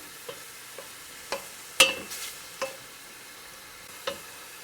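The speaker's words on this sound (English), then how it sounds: "And let it fry a little bit, okay?" Vegetables frying in a pan, a soft low sizzle under a handful of distinct stirring knocks and scrapes spaced about a second apart, one sharper clink among them, close and quiet with no talking.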